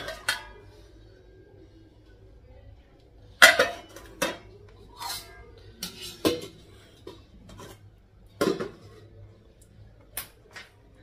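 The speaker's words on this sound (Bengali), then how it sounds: "এখন হচ্ছে কড়াইটা ধুবো" Dishes being washed in a home kitchen: a wok and dinner plates clatter and clink in a series of sharp, separate knocks and scrapes at close range, with a low steady hum underneath and no talking.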